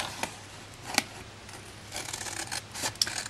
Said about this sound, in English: we're just going to cut all the way along the top score line